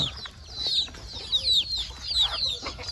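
Backyard chickens cluck repeatedly in short, sharp, overlapping calls, close and fairly loud against a quiet yard background, with no talking.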